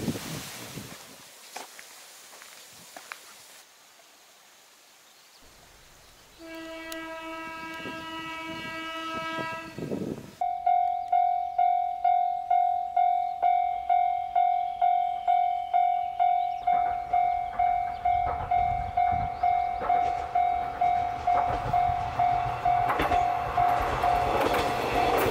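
A local Kumagawa Railway train near rice fields sounds a horn blast, then passes close with a sustained high wheel squeal and a steady rhythmic clickety-clack of wheels over rail joints.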